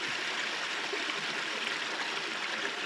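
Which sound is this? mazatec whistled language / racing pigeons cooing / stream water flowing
stream water flowing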